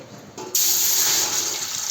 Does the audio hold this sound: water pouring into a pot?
yes